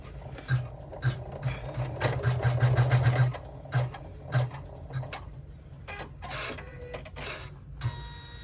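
A sewing machine stitches down a pocket in short bursts, its rapid mechanical whirring and ticking stopping and restarting at close range.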